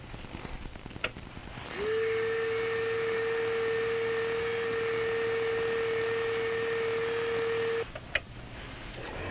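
A rotary sanding pad polishing metal gives a steady, high whining motor hum that starts abruptly, holds for about six seconds at an even pitch, then cuts off, with quieter handling noises before and after.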